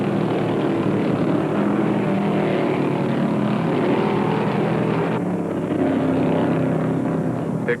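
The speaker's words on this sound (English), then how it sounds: "He blew all the nuts and bolts out of that Chevy engine right down the front chute" A Chevy stock car engine blowing up during a 1975 NASCAR Winston Cup race at Rockingham, heard as a loud, continuous roar of racing engines at close range with an abrupt drop in the upper tone partway through.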